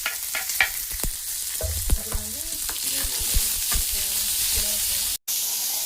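Ginger, onion, curry leaves, coriander and salt sizzling in hot oil for a mixed chutney, close up, with repeated scraping and clinking of a spatula stirring the pan over a constant fry hiss.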